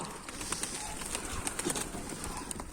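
A stray Karabaş pigeon arrives among other pigeons, and soft cooing and bird calls sit over a steady outdoor noise bed at moderate distance.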